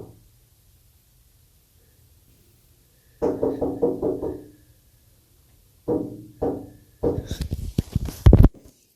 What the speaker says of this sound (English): I just hear frantic knocking